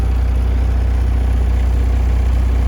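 A Freightliner truck engine idles while warming up, a loud, steady low rumble that holds constant throughout.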